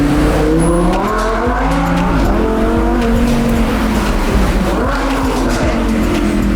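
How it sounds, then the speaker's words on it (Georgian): A loud, high-revving Lamborghini Huracan V10 engine roars steadily, its pitch climbing and dropping through several rises, with tires squealing at moments. "ახლა უკვე აუცილებლად გესმით 10 ცილინდრის ხმა"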